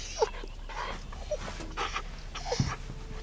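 A wolf cub whimpers in short, high whines with soft panting breaths between them, close by, a few separate cries over a quiet background.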